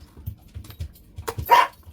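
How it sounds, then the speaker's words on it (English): A dog barks a few times in quick, fairly close bursts, with a sharper and louder yelp near the end and no talking over it. "And there he barks."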